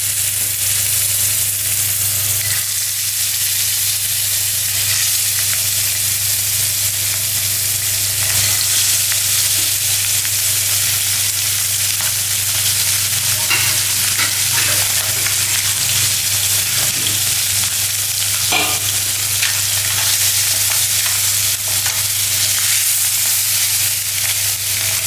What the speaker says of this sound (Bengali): এবার আমি ডিমগুলো দিয়ে দিচ্ছি।